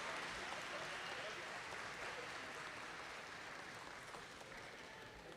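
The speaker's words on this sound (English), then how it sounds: "Please give them a big round of applause under the direction of Mr. John Nieto" Audience applause for a performance by high school mariachi students, a steady dense wash of clapping lasting throughout at moderate, even loudness and tapering slightly at the end.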